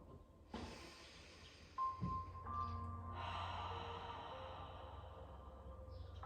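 Deep breathing during a Pilates exercise: a couple of sharp inhalations through the nose are followed by a long, steady exhale, all quiet and close with no talking.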